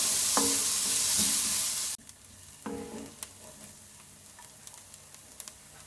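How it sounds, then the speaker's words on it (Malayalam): Chopped onion sautéing in butter in a pan for spinach soup, a steady sizzle at first that drops quieter, with occasional spoon scrapes and taps against the pan. "സവാള ട്രാൻസ്പെറൻ്റ് ആവുകയുള്ളൊന്ന് വഴറ്റിയെടുക്കാം."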